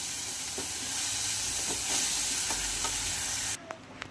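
A vegetable curry sautés in a pan with a dense, constant hiss and sizzle and occasional stirring knocks. The frying noise drops away near the end, leaving a couple of faint clicks.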